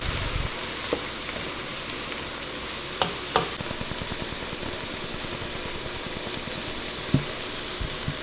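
Cajun trinity vegetables frying in a pan, a steady low sizzle with a few faint clinks of a utensil, with no talking.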